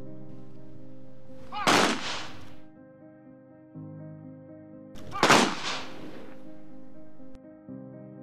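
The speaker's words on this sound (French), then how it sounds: "Les coups de feu ont retenti en 3 salves." Two sharp, loud rifle volleys from a military funeral salute ring out several seconds apart, each a cracking blast that decays quickly over a steady tonal background.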